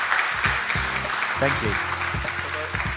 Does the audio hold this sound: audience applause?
yes